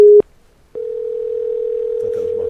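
Telephone dial tone heard during a call-in radio show: a short steady tone, a brief pause, then a long continuous loud hum, with faint voices creeping in toward the end.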